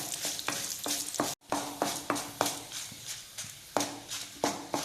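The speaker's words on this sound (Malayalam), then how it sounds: "ഇനി നന്നായിട്ടൊന്ന് ഫ്ലെയിം കൂട്ടി വെച്ച് കൊടുക്കാം. നന്നായിട്ടൊന്ന് മൂത്ത് വരട്ടെ." Dried Kashmiri chillies frying in oil over a raised flame, a rhythmic series of sharp spatula scrapes and taps against the pan over a soft sizzle, with a brief silent break early on.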